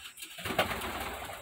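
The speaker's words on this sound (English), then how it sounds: "A lot of peepers in here. The pigeons, guys." Pigeons cooing inside a coop, a dense layer of soft overlapping coos and rustling that rises after a quiet start and holds steady close by.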